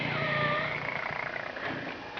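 A rescued cat, once surrendered to a high-kill shelter in Hamilton, Ontario, makes a soft, continuous purring rumble, close and fairly quiet.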